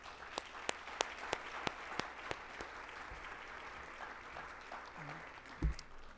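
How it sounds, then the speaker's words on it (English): Applause for a panel at a Columbus Metro Club discussion, a moderately quiet room of clapping with several sharp, distinct nearby claps early on, thinning toward the end as a brief low murmur appears. "I'll give them a round of applause."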